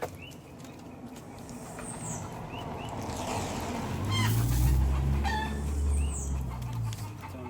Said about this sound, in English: I'm gonna do some food for the chickens to leave the cats alone